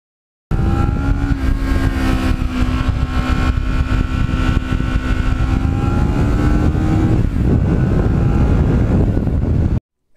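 A black Ninja motorcycle engine runs steadily and loud for about nine seconds, a constant droning hum with a slight shift in pitch near the end, mixed with some wind rush.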